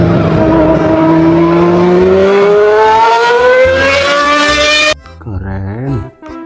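A toy race car plays a loud electronic engine sound whose whining pitch climbs steadily, then cuts off abruptly as a voice starts talking.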